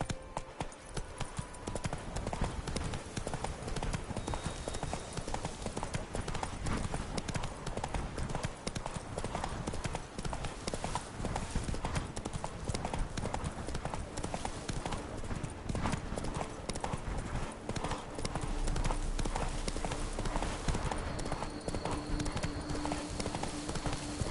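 A horse gallops in The Witcher 3: Blood and Wine, its hooves clip-clopping in a steady, driving rhythm that continues nearly the whole time, close and fairly loud over a busy game soundscape.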